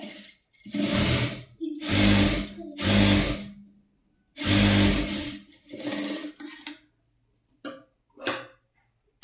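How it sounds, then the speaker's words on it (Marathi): A sewing machine runs press stitches along a blouse in several short bursts of steady mechanical whirring. Each burst lasts about a second or two, with pauses between, and the whole plays close up and alone. "आता इथे आपल्याला हे दाब शिलाई द्यायची आहे."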